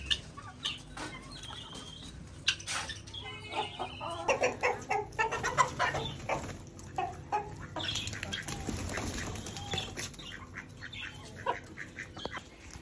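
Golden Sebright hens cluck and cackle close by in repeated uneven bursts, several birds overlapping, with no talk over them.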